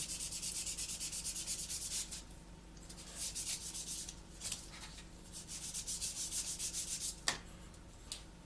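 On a 1/48 Airfix Sea Vixen model, paint is rubbed to create chipping. Bursts of close, rhythmic scratchy rubbing come in short runs separated by pauses, with a few sharper scrapes.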